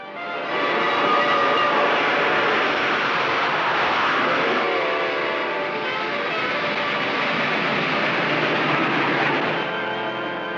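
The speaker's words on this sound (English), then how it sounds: "Death Valley Scotty stepped from the train in Chicago" Train speeding along rails at record pace, a loud, continuous rumbling roar with tonal mechanical whine, swelling slightly then holding steady, on an old mid-century soundtrack.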